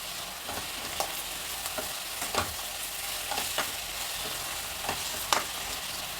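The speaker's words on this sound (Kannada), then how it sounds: "ಇದನ್ನೀಗ ಚೆನ್ನಾಗಿ ಫ್ರೈ ಮಾಡೋಣ ಮೆಂತ್ಯ ಸೊಪ್ಪೆಲ್ಲ ಚೆನ್ನಾಗಿ ಬಾಡಬೇಕು ಅಲ್ಲಿವರೆಗೂ ಫ್ರೈ ಮಾಡೋಣ" Fenugreek leaves, onion and peas fry in a pan for avalakki menthe bath, with a steady soft sizzle broken by repeated scraping clicks of a spoon stirring, close and without talk.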